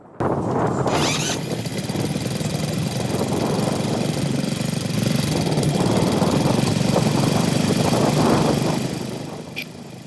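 A gasoline lawn mower engine being tested after carburetor work runs steadily and loudly up close, a continuous rough drone that fades off at the end.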